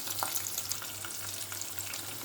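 Onion, curry leaves, cumin and mustard seeds frying in a few spoons of hot oil give a faint, steady sizzle with light crackles, close by and alone.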